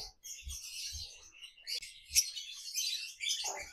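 A male lovebird gives short, bright chirps in bursts, close by, with a few soft low thumps between calls and no talking.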